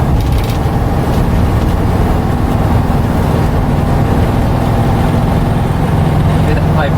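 A 1977 Volkswagen Westfalia bay-window camper bus cruises down a highway, its engine drone and road rumble forming a loud, constant low vibration throughout, with no speech over it.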